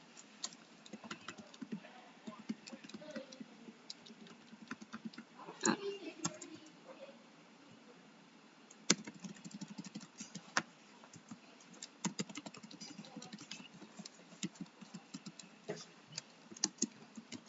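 Computer keyboard typing during a ranked online game, a quiet scatter of rapid clicks and key taps, close to the mic, with occasional faint speech in the background.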